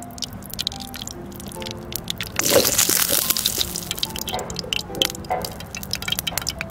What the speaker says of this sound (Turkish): Şimdi yağımızı döküyoruz.